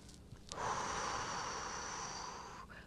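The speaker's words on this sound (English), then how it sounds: "Nice inhale and exhale." A long, steady breath drawn in or let out during a rebounding yoga flow, audible close up as a soft airy hiss lasting about two seconds.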